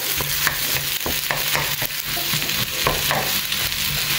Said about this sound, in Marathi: आता पोटॅटोज घालून न्ही बरें मॅश करून घेता